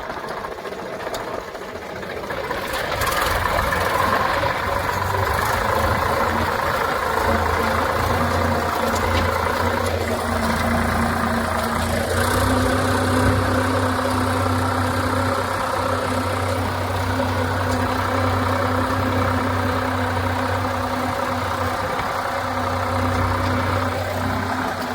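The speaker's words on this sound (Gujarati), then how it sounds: "આપણે ટ્રેક્ટર ચાલુ કરી દીધું છે" A farm tractor idles in a steady, even mechanical drone with a low throbbing hum. It runs continuously and fairly loud, with no voices over it.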